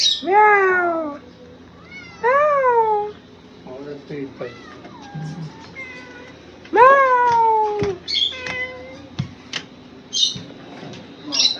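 Several loud, drawn-out cat meows, one after another with pauses, close by, mixed with a few shorter squeaky calls.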